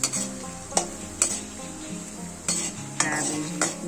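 Onions and mixed vegetables frying in a pan for veg manchurian, with a constant close sizzle broken by several sharp spoon clanks and scrapes against the pan as they are stirred, and no one talking.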